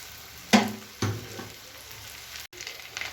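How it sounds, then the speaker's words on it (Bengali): Bhetki fish bones frying with spices, a faint low sizzle broken by two sharp close clatters of a spatula stirring and a few lighter scrapes. "মশলার সঙ্গে এই মাছের কাটাগুলোকে ভালো করে কষে নেব"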